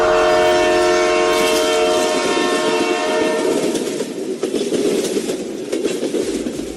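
A train passes close by, a loud steady rumble with a sustained horn tone that fades into rolling rail clatter.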